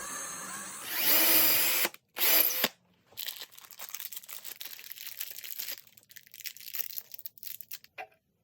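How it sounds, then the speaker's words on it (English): A power drill bores a hole for a single knob in a bamboo nightstand, a loud whirring burst followed by a second short run, then scattered crackling and rustling of wood fibers. "so I'm going to go ahead and drill the hole for that."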